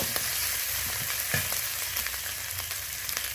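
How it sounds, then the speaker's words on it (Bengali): Garlic, ginger and onion fry in hot oil in a pan for a fish curry, giving a steady close sizzle with scattered crackles and a few stirring scrapes, no voices. "রসুন, আদা, পেঁয়াজ ফোড়নের সাথে বেশ ভাজা ভাজা হয়ে গেছে"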